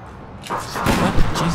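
A quick flurry of gunfire in APB Reloaded, a short rough burst of overlapping shots and thuds lasting about a second, close and fairly loud.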